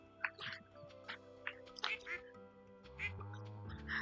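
Cartoonish ducks quack in the farming video game Stardew Valley, several short separate quacks spaced irregularly over a sustained background music drone, with someone talking in between.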